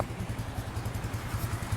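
A 2016 Stallion Centaur 150 motorcycle idles smoothly up close, with a steady low, pulsing chug ticking at an even rhythm and no one speaking.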